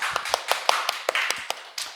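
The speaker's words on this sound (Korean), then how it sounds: "박수 한번 쳐주세요." A small group claps at a church youth service, giving about ten crisp, close claps in a quick, slightly uneven rhythm that tapers off within two seconds.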